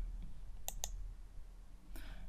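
Crisp mouse clicks on a computer while typing maths in Microsoft Word, two quick clicks close together and another a second later, faint and close with no talk.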